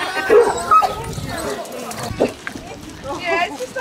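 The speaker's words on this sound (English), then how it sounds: "Lottie, you're a noisy hound." A Basset Hound yips and barks in short bursts with a whimper, while people talk nearby on a walk at Otterton, South Devon.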